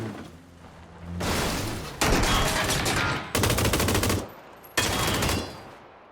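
Bursts from an M249 light machine gun in PUBG, several sustained automatic volleys of rapid loud shots separated by short pauses, with no talk over them.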